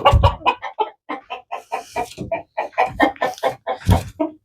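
Chickens cluck busily up close, a rapid stream of short, bouncing calls overlapping one another with no pauses, loud and near.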